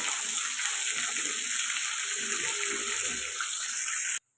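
Curry leaves and chopped carrot pieces fry in hot oil in a pan for an upma tempering, a steady, close hiss of sizzling with faint clinks underneath, cut off sharply at the end.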